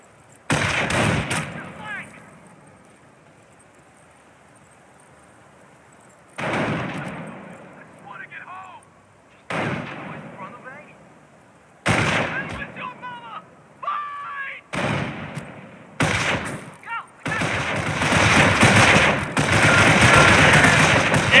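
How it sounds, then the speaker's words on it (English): Bursts of rifle and machine-gun fire in the World War II strategy game Company of Heroes, sharp rattling volleys arriving in separate clusters with quiet gaps between, growing denser and louder toward the end, with radio-style voices calling out. "Shots at us!"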